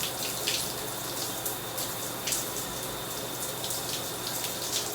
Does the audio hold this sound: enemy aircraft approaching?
no